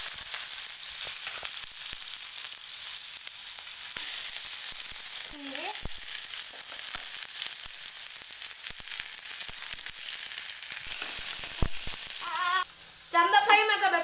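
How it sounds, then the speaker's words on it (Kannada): Mustard seeds and curry leaves fry in hot oil with a constant close hiss and scattered crackles, some brief clinks and rattles from the pan, and a sharper burst of spitting near the end. "ಚಂದ ಫ್ರೈ ಮಾಡ್ಕೋಬೇಕು. ಗೋಲ್ಡನ್ ಫ್ರೈ ಬರಬೇಕು."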